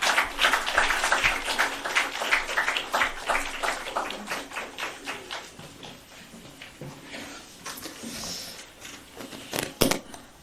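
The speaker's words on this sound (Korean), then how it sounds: "큰 박수 부탁드립니다." A room of party staff claps at a year-end closing ceremony. The applause is dense and loud for several seconds, then thins out and fades, with a few scattered claps near the end.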